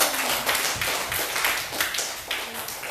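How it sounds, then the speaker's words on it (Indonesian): Schoolchildren in a classroom clap their hands together in a quick, fairly even rhythm, the mixed claps close and lively. "Tepuk tangan dulu untuk anak Ibu."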